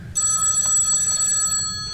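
A telephone rings loudly in a stage drama, a bright sustained bell tone with steady ringing tremor over a low room murmur, heard alone without speech.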